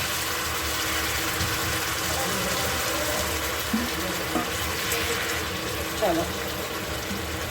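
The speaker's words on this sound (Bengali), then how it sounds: "এই দিয়ে দিলাম জল, ঠিক আছে।" Water pours into a cooking pot of chicken stew in a steady, moderately loud rush lasting throughout, with a voice speaking briefly over it.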